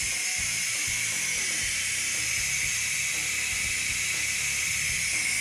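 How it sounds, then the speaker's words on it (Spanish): A pressure cooker that has just finished cooking suadero beef releases its steam in a loud, continuous, close hiss that stays steady throughout. "Nuestra olla ya acabó, vamos a dejar a que libere la presión."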